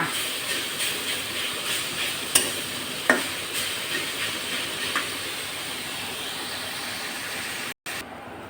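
Drumstick (moringa) leaves fry with onion in a pan, producing a continuous close hiss. Stirring scrapes and a few sharp clinks of a utensil come through, followed by a brief cutout near the end.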